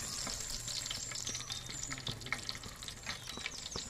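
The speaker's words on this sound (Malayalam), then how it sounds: "നമുക്കിതിലേക്ക് കുറച്ച് പട്ട, ഗ്രാമ്പു, ഏലക്കായ് ചേർത്ത് കൊടുക്കാം." Cinnamon, cloves and cardamom sizzle in hot oil for a Kerala-style beef biryani, a steady close crackle with light stirring clicks and scrapes scattered throughout.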